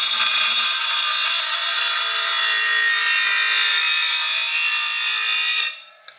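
A grinder sharpens a Honda lawn mower blade, giving a loud, continuous, high-pitched metallic grinding whine held steadily for almost six seconds before it abruptly stops and fades, close up with no talking.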